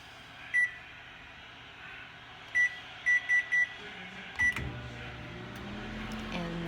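A microwave oven cooking pot roast in a Tupperware pressure cooker: keypad beeps sound one at a time, then a steady low hum begins as the oven starts running.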